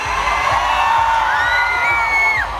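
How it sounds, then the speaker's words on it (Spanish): A concert crowd at a show during Mexico's patriotic month roars with sustained shouting and cheering, rising whistles cutting through a loud, dense wall of voices for the whole stretch. "yo quiero escuchar un pinche grito que se oiga"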